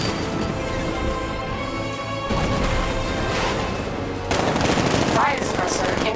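Tank cannon and heavy weapons fire in the video game Batman: Arkham Knight, with dense, loud, continuous bursts of gunfire and blasts and a sharp surge of louder shots near the end.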